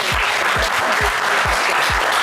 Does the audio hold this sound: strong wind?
no